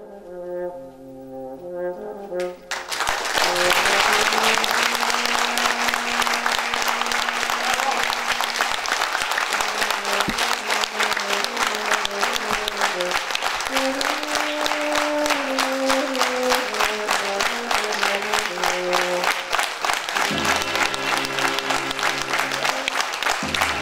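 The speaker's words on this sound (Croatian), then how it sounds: "Gromoglasni aplauz orio se u punoj sali Kulturno-prosvetnog centra u Petrovcu na Mlavi" Thunderous applause from a full theatre hall at the Cultural and Educational Centre in Petrovac na Mlavi after a monodrama, a dense and sustained roar of clapping alongside music.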